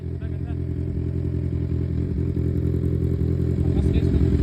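Loud motorcycle engine running steadily close by, a heavy low rumble that swells slightly toward the end, with people talking over it.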